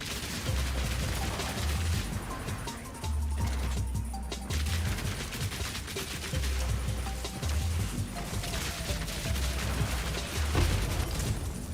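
A sorceress casting rapid-fire projectile spells in Path of Exile 2, a continuous clattering stream of mechanical-sounding impacts and crackles over a low pulsing game score, steady and moderately loud.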